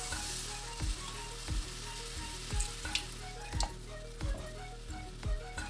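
Broccoli cream sauce with added milk being stirred in a frying pan, a steady close sizzle with a soft scrape of the spoon recurring about every second.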